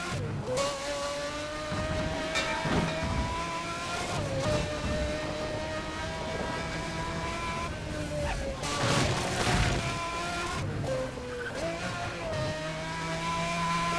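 Racing cars roar and rev continuously in the video game Need for Speed World, with engine pitch climbing and dropping through gear shifts and occasional impact thuds, loud and sustained throughout.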